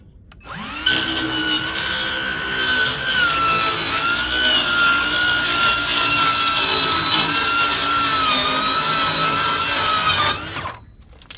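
A cheap Harbor Freight circular saw rips through half-inch wood in one loud, continuous cut lasting about ten seconds, its whine steady and close, with brief quiet before and after.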